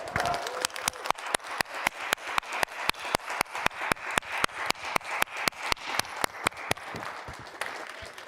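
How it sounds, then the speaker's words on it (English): An audience at a winter satellite workshop claps for an event organizer, with sparse, fairly quiet, individually distinct hand claps in a steady rhythm and a faint voice near the start. "So one big applause for Jan."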